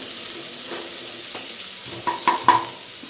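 Ingredients for green peas masala sautéing in a pan, giving a steady close sizzle. A few clinks of a utensil against the pan come near the end.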